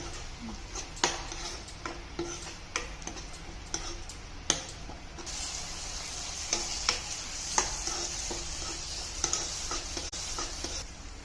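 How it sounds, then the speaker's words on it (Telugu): Masala frying in oil for potato gravy, a steady sizzle with repeated stirring clicks and ticks of a spoon against the pan, close and alone with no talk. "దీన్ని మొత్తం పచ్చివాసన వేయడాక ఫ్రై చేస్తుండాలి"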